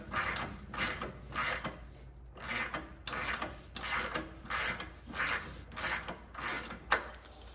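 A ratchet working the nut off a rear shock on a BMW 228i/235i, about ten rhythmic rasping strokes in a steady back-and-forth cadence, close and clear.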